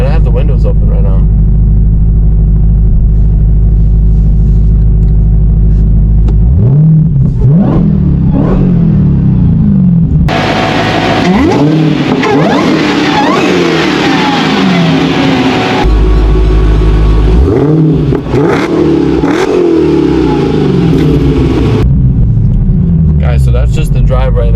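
A 1025 hp Dodge Demon 170 drives past with its engine extremely loud, a deep rumbling idle building into harsh, roaring surges of revving and acceleration that fill the scene.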